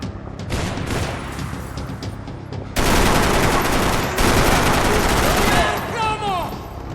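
Rapid gunfire crackles in a Max Payne 3 gunfight aboard a ship, dense bursts of automatic shots layered with heavier booms, loud and continuous across the scene.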